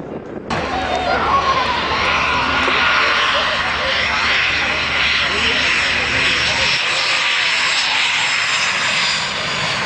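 A privately owned Impala jet at a South African airshow roars loudly and steadily at close range, its broadband engine noise swelling at the start and holding strong throughout.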